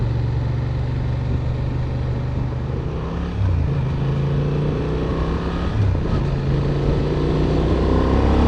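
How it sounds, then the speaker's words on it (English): A 2025 Honda Transalp 750 adventure motorcycle being ridden, its engine a steady droning hum with a couple of shifts in pitch, close and continuous with wind noise, no talking. "this is a full-on adventure bike"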